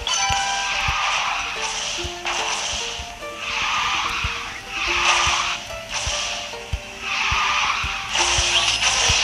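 Car drifting and skidding in the Garena Speed Drifters racing game on the snowy Winter Gorge map, with repeated tire-screech bursts rising and falling over a steady engine drone and game music, loud and continuous.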